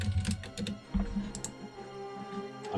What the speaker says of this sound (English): I'm too scared to type into address bar.